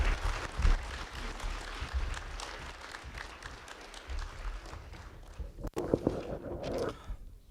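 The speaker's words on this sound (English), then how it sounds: "Mickey Kunz, if she would come forward, please give her a round of applause so she could recognize those who worked with her." An audience at a keynote event breaks into applause, a dense wash of clapping that swells early, thins out over the following seconds, and ends with a few scattered claps and a closer sound.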